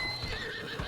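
Horse hooves clopping in Zelda: Breath of the Wild, a short burst of game galloping with a faint whinny-like tone layered over steady background music.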